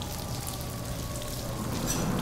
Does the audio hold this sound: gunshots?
no